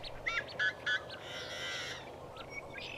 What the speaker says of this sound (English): the blackbirds kind of outcompeted the traffic